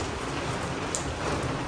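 Heavy storm rain pours down on a village, a dense, steady hiss of water hitting surfaces that fills the whole stretch at an even, loud level with no pauses.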